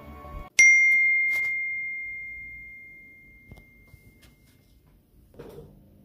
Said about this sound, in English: my phone buzzed and I got a very strange notification